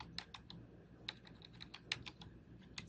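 Fingers typing on a computer keyboard, a quiet close run of irregular crisp key clicks with one or two heavier taps, alone without talk.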